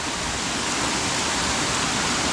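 Vattakkool waterfall pouring in a steady, loud, unbroken roar of rushing water from start to finish, with no voices.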